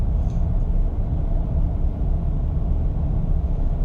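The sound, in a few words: road and wind noise inside a 2019 Honda Fit, Firestone tires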